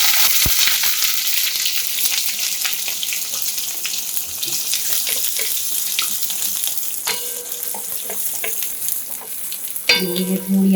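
Green chillies, curry leaves and chopped onion sizzle and spit in hot oil in a pan, a loud, continuous frying hiss broken by occasional stirring clatters, with a short clank near the end.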